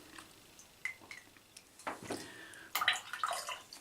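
A wet boar-bristle shaving brush is squeezed out by hand, giving small drips and a few short splashy bursts of water, close and fairly quiet with no talk.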